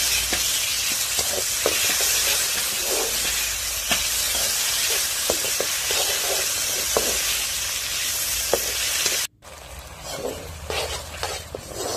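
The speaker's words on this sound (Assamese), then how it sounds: "বিলাহী দি পেলাই মই ভাজি লৈছোঁ" Tomatoes fry in a pan over a wood-fire hearth, giving a loud, steady sizzle with occasional crackles and stirring scrapes; the sizzle drops sharply near the end, then quieter frying continues.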